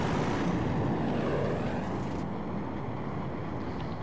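A jet aircraft in a video game roars steadily and loudly throughout, with a dense broadband rush like wind and engine noise and no clear breaks.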